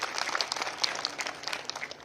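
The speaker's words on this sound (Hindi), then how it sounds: "तालियों के साथ इनका स्वागत किया जाए।" Crowd applause greeting a guest at a village Panchayat gathering in Kunfer, Ramban, with steady dense clapping throughout and no voices over it.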